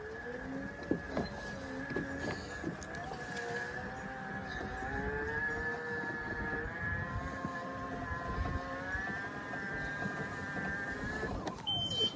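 A Ryobi riding mower runs under throttle, giving a steady drone with a sustained high whine whose pitch rises slightly as it is given throttle, then abruptly drops away near the end.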